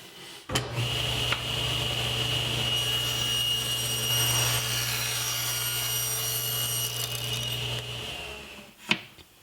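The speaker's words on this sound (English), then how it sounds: "So I'll need to rip a few pieces at 5/16 of an inch by 3/4 of an inch." A power saw ripping thin wooden strips for cabinet shelf supports, a loud continuous whining cut lasting several seconds with a sharp start and stop, close by and without talk.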